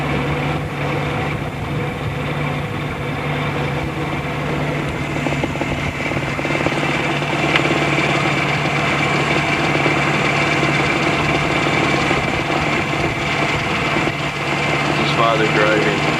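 Car engine running during a Sunday drive, a steady close drone that holds level throughout, with people talking over it inside the vehicle.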